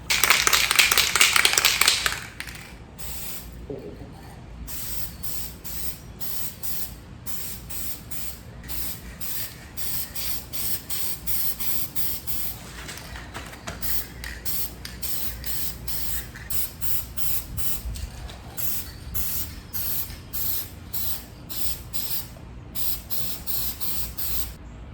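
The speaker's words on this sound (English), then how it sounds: "I'm going to spray paint them and then hang them somewhere to dry" A short, loud hiss of a gold aerosol spray paint can at the start, followed by quieter handling noises and faint repeated taps.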